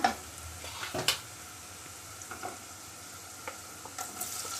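Tomato tossed into lightly browned onions in a pan for prawn rice, a faint steady sizzle with a couple of sharper clatters early on and scattered small stirring taps.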